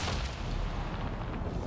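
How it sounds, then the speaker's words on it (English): Dense, rumbling explosions go off in Avatar: Frontiers of Pandora, a continuous booming roar that fills the moment with heavy low-end blast noise and no speech. "explosions"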